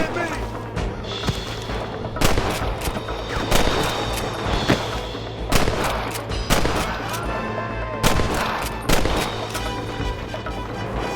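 Western gunfight in Red Dead Redemption, with repeated loud gunshots and booming impacts over a continuous rumble and shouting voices.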